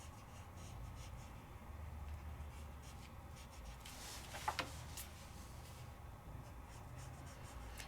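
An alcohol ink marker shades on paper with soft, continuous scratchy rubbing strokes, close and quiet, broken briefly by a couple of small taps midway.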